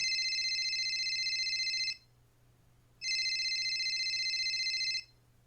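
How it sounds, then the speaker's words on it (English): A phone rings in two long electronic bursts with a pause between, clear and close over a low steady hum, no voices. "The next morning, they were awoken by Serenity's phone ringing."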